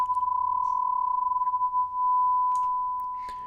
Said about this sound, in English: I can just throw in a sine wave.